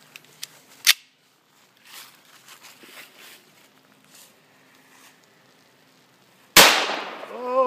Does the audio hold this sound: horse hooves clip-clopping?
no